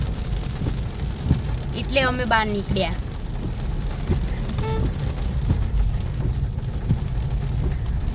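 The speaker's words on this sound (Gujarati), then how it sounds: "વીજળી થતી હતી, ગાજતું હતું, બધું બંધ થઈ ગયું પણ વરસાદ તો હજી ચાલુ જ છે" Steady rain keeps falling after a thunderstorm, a continuous hiss of drops on surfaces with faint low rumbles, while a person speaks briefly near the middle.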